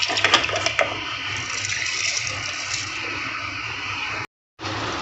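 Water pours steadily into a container of soaked rice, a continuous gurgling stream with a few clinks near the start, then briefly cuts off before resuming.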